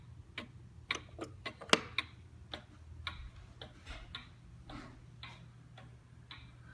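An antique four-foot Black Forest hunter's cuckoo clock from around 1890 ticks in a steady, faint rhythm over a low background hum.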